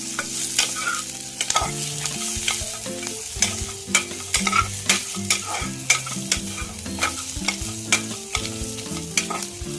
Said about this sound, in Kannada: ತೆಂಗಿನಕಾಯಿ ಚೆನ್ನಾಗಿ ಫ್ರೈ ಮಾಡ್ತೀನಿ ಮಸಾಲೆ ಗಮ ಗಮ